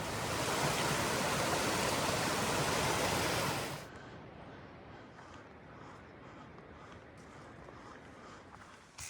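The Sandy River rushing past a Pacific Crest Trail crossing below Mount Hood, a loud broad roar of flowing water that drops abruptly to a quieter, steady wash partway through.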